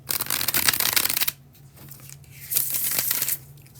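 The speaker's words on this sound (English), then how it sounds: "the bridge shuffle." Two quick bursts of cards riffling together, a bridge shuffle: a dense papery flutter, a pause with soft handling, then a second riffle, close by.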